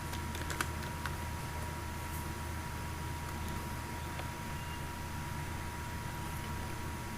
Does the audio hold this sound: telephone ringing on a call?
no